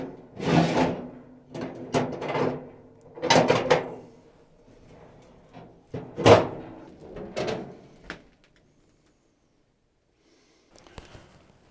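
The metal clean-out door of an old, rust-pitted stove in a shed opens and shuts, several close scraping clanks and creaks in bursts, then a quiet stretch with a faint rattle at the end.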